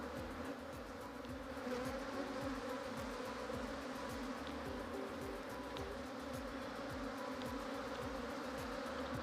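Bees swarm inside a Kenyan top-bar hive, and their dense, steady buzzing hums continuously, close and even, with no voices.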